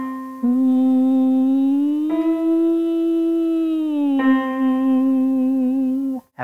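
A single voice hums a sustained buzzy tone through puffed cheeks, gliding smoothly up a major third from C4 to E4, holding, then sliding back down, alone and close.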